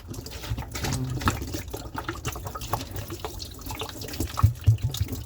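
Tap water runs in a sink while dishes are washed by hand, a close, uneven splashing stream with clinks and bursts of louder gushing and no talking.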